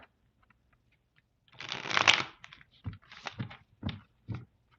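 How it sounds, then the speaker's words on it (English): A Roots and Wings oracle card deck is shuffled by hand: one longer riffling burst followed by several short, crisp card flicks, close and clear in a quiet room. "So I'll give the deck a shuffle."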